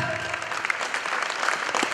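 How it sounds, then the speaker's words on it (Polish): Audience applause at a concert, steady dense clapping from a large crowd filling the whole moment, with a voice faintly under it. "Brawa!"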